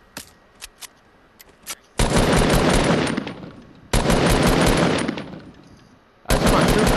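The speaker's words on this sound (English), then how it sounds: "Hey, somebody shooting, at him." Bursts of rapid automatic gunfire in a multiplayer shooter video game, three long loud volleys separated by brief pauses, with a few faint isolated shots before the first burst.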